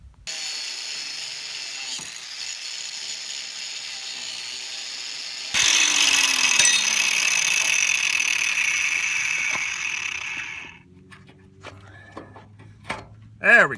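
An angle grinder cuts off a trailer shackle bolt during a trailer refurbishment, giving a steady, loud grinding whine for about ten seconds that grows harsher midway, then stops, followed by a few scattered clanks.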